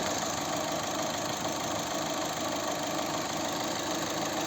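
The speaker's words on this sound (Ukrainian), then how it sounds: "Ось робота двигуна." A 2009 Opel Zafira Cosmo 1.8 petrol engine idles steadily, a smooth, continuous hum close by with no revving and no voices.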